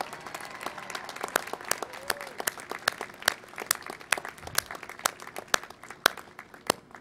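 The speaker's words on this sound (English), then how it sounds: "So can we give them a special round of applause?" An audience at a Cal State LA graduation ceremony for the College of Health and Human Services gives a fairly quiet round of applause. Distinct individual claps are spread across the hall for several seconds.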